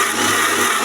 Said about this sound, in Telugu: ఇవన్నీ మిక్సీ జార్లో వేయాలండి